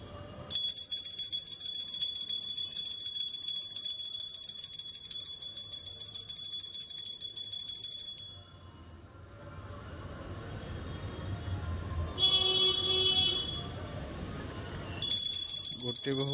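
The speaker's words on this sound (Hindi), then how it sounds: "गोटे बहु पूजा कले गोटे बहु घंटी बजाउछंती" A puja bell rings steadily with bright metallic tones at a household Kumar Purnima worship, continuing for several seconds, fading out, then returning in short bursts near the end amid background voices.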